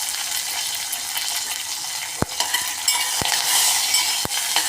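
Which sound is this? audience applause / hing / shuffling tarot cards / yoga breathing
hing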